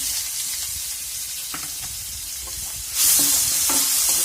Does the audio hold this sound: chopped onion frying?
yes